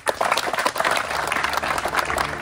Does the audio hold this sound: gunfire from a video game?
no